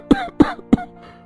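An elderly man with asthma coughs hard three times in quick succession, loud and close, each harsh bark followed by a short wheezy tail.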